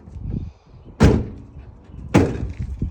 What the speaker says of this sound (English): when you want to close the door